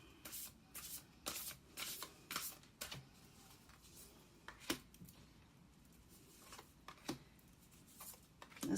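Tarot cards are shuffled close up in repeated quick riffling bursts, crisp papery flutters separated by short pauses and soft handling, quiet with no talking.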